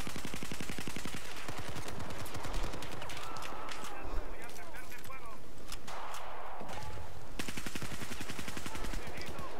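Suppressed gunfire in Battlefield 4 comes as rapid, evenly spaced bursts of soft cracks with short pauses between them, moderately loud within a busy battlefield mix, with some voice or game chatter faintly underneath.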